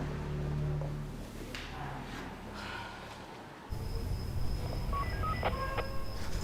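Telephone keypad tones beep in a quick run of separate dialing pulses after a low rumble and a sudden cut in the room sound, fairly close and clear with no voices over them.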